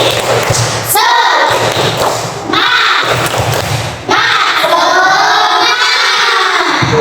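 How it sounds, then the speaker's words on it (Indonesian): Schoolchildren doing a rhythmic spirit clap in a classroom, loud patterned claps in short bursts mixed with excited children's voices shouting along. "Tepuk semangat."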